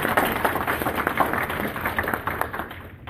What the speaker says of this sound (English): let's have a round of applause for them.